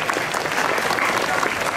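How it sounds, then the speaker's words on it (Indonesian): A school audience of high school students applauds steadily at an Islamic New Year religious gathering, a dense patter of many hands clapping at once, sustained and fairly loud for the whole stretch. "tepuk tangan semuanya."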